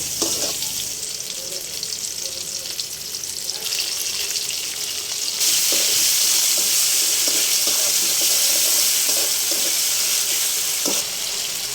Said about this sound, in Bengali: পেঁয়াজ টমেটোটা ভাজা হয়ে গেছে এখন আমি মশলাগুলো দিব